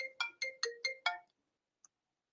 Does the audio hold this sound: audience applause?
no